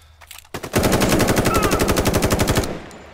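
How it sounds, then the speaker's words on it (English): A single sustained burst of fast automatic gunfire in The Day Before shooter game, loud evenly spaced shots lasting about two seconds before cutting off. "The shooting doesn't look very good."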